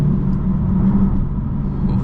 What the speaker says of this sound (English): Why did it rev like that?